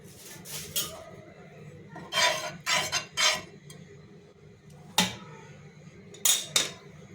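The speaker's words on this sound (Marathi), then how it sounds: "इथे एक पॅन मी गरम करत ठेवलेलं आहे त्याच्यामध्ये एक चमचा तूप टाकून देते" A metal spoon clinks against a heated pan while ghee is added, with a few sharp clinks and scrapes spaced across a quiet kitchen background; no one talks.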